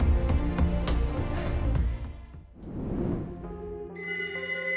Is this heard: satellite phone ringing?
yes